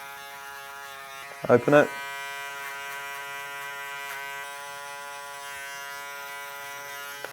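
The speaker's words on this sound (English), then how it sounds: "I clipper over comb this weight out" Electric hair clippers cutting hair over a comb during a slamback haircut, a steady close mechanical buzz humming throughout, with a short burst of speech early on.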